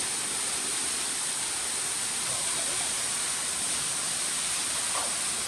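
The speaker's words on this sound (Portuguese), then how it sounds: "Aqui no vão dessas pedras, formações rochosas, desce uma cascata." Waterfall cascading down through a gap between rock formations at Cascata das Andorinhas in the Serra Catarinense, Alfredo Wagner, heard as a steady, dense broadband rush with no pauses.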